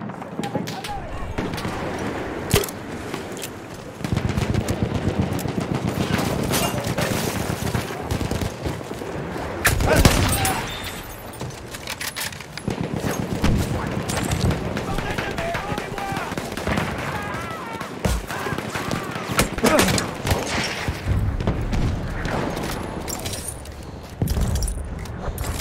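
Enemy machine gun fire rattles through a night Conquest battle in Battlefield 1 on Nivelle Nights, dense overlapping bursts and explosions running almost continuously, with voices calling out amid the din.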